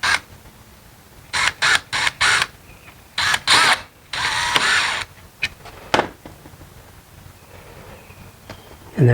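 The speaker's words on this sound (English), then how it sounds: "We're going to take our screw and we're going to screw it in." Power driver driving a screw into an Adirondack chair, several short buzzing bursts with pauses between them, ending in a longer run and a few quick taps.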